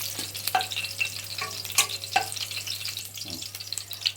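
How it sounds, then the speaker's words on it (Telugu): Green chillies fry in hot oil in a pan for a brinjal, tomato and coconut chutney, giving a steady soft sizzle dotted with sharp crackles and the occasional stir of a spoon. "పచ్చిమిరపకాయలు అయితే మనకి చక్కగా వేగినాయండి."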